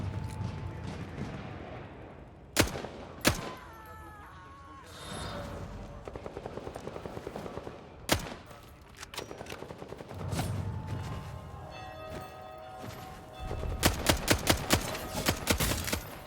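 Gunfire in a pirate video game with shotgun blasts among it: sharp, loud single shots spaced apart, then bursts of rapid repeated fire toward the end, mixed with mechanical game sounds.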